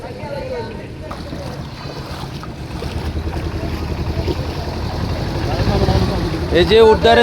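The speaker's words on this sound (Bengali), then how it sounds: "এই যে স্পিড বোট নিয়ে মানুষকে উদ্ধার করে আনলো" A speed boat carrying people rescued from floodwater in Lakshmipur drones and rumbles steadily, growing louder toward the end, with wind buffeting the microphone and people talking over it.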